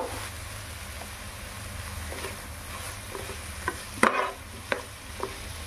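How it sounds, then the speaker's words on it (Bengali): Spice paste with dried chili powder stir-fried in a pan, a low steady sizzle broken by several sharp spatula scrapes and taps toward the end, close and fairly quiet, no speech. "এইবার মশলাটা আমরা ভালো করে কষে নেব"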